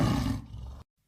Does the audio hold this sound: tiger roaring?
yes